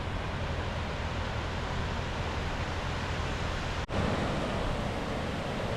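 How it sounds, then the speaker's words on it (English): A river in a Japanese hot spring town, Kurokawa Onsen, rushes in a steady, dense wash of water noise that stays loud and unbroken throughout, with no voices. "I heard a sound like the murmur of a river."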